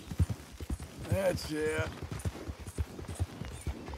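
Horse hooves clip-clop at a steady walking pace in the video game Red Dead Redemption 2, with a brief whinny partway through and someone talking over them.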